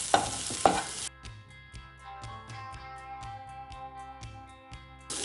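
A turmeric, chilli and pepper masala is stirred in a pan, a regular pattern of spoon knocks and scrapes repeating about twice a second over a faint low hum, close and fairly quiet after a brief louder burst at the start.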